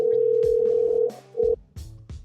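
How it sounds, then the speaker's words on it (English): An outgoing phone call rings out during a live sports pregame show: a steady electronic ringback tone holds for about a second, stops, returns in a shorter burst, and is broken by soft clicks and thumps. "Greg, answer the phone."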